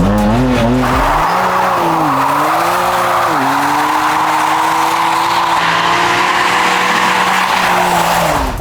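BMW 1M with an N54 engine revving loudly as its tires squeal, the engine note climbing and dipping in waves beneath a sustained skidding hiss close by.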